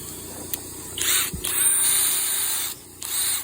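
Flex compact impact driver running in short bursts, a whining high-pitched motor buzz with brief pauses between runs, close and fairly loud with no talking.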